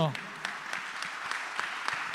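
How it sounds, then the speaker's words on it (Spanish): An audience claps at an Argentine young entrepreneurs awards ceremony, with even, moderate applause after a brief voice at the start. "Fuerte el aplauso"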